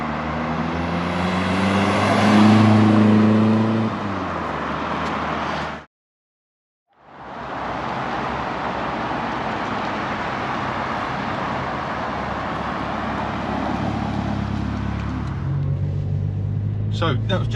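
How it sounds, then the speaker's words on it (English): A 1990 Ford Fiesta RS Turbo makes two flybys, its engine rising to a loud revving pass and then, after a brief cut to silence, roaring past again with broadband rumble and fading away. "So that was just a quick look around the Fiesta and a couple of flybys."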